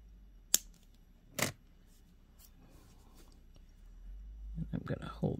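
Scissors trim extra material from a beaded millefiori key earring, giving two quick, crisp snips followed by quiet handling noises and faint rustling.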